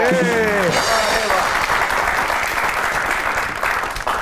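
Studio audience applause greets guest Esha Malik, an actress, on a comedy talk show. Sustained clapping from a large crowd rises loud and steady after a brief musical sting, holding for several seconds before easing slightly.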